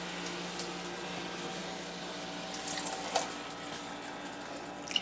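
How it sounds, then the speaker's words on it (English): Chickpeas and their liquid from a can pour steadily into a cooking pot, a continuous wet splashing and gurgling rush of moderate loudness with a few small clanks near the end. "I've got a can of chickpeas or garbanzo beans. And we're going to leave the juice in."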